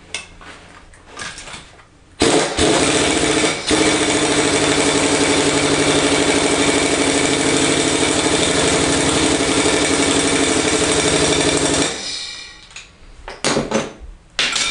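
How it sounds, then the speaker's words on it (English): An impact gun works on the cam sprocket of an old motor during a cam swap. It gives a loud, continuous rattling buzz for about ten seconds, close up, then cuts off with some lighter shop clatter before and after. "Let's use the impact gun."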